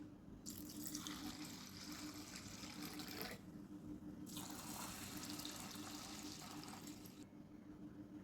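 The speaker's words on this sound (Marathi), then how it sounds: "आता आपल्याला त्याच्यात पाणी घालायचं आहे" Water pours in two long streams, each running a few seconds, onto washed lentils in a bowl, separated by a short pause; close and steady, no talking.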